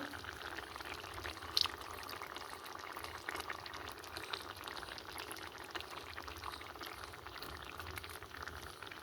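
A little hot water is poured into a spice bowl while mustard chicken curry cooks, a faint continuous splashing pour over a steady bubbling hiss, close and quiet with no talking.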